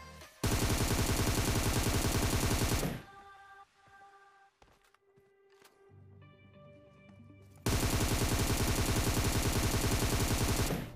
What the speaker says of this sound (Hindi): तभी मुझे लेफ्ट से यार फायरिंग का साउंड आने लग गया